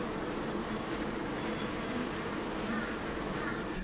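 A swarm of honeybees in a farm shed makes a dense, continuous buzzing drone that stays close and steady throughout, with no voices.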